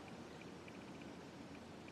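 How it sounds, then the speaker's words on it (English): Oil poured out of a wooden flute blank back into a can, a soft continuous trickling stream with faint drips, close and quiet. "And then pour your oil back in the can, but don't let it all drip out."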